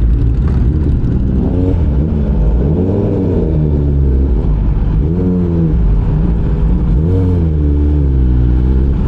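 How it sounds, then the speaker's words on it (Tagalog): Stop-and-go road traffic on the Tagaytay flyover at Mendez crossing, with car engines steadily humming and revving as vehicles accelerate, close and continuous throughout with no talk. "Stop and go traffic scheme on Tagaytay flyover at Mendez crossing."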